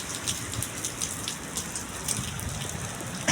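Rain falls steadily in a dense, even patter, with scattered sharper drops splashing through a continuous wash of moderate loudness, no voices over it.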